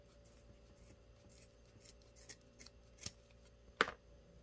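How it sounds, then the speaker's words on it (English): Scissors cut through rope while making a beehive craft, with faint rubbing and handling followed by a single sharp snip near the end. "Let me just cut this off here."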